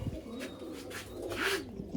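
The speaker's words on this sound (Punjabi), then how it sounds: "ਕਬੂਤਰ" Domestic pigeons kept for sale coo softly in a low, rolling murmur that rises near the end, with faint background noise and no clear talk over it.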